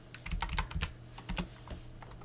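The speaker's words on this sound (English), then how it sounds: "Let me just go here and type." Fingers tap out an irregular burst of keystrokes on a computer keyboard, close and distinct, thinning to a few scattered presses at the end; no speech.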